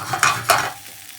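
A homemade burger patty frying in a hot pan, with two sharp sizzling bursts early on that settle into a quieter hiss.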